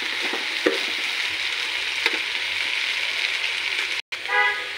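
Spiced food frying in a pan hisses steadily as water is poured in, giving a continuous close sizzle broken by a brief gap near the end, then a short burst of louder spitting.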